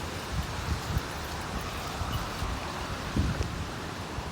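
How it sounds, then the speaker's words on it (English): Wind storm in Vancouver, Canada, blowing steadily outdoors with low rumbling microphone buffeting and a few stronger gusts, a broad continuous rush with no talk. "Now we're having windstorms."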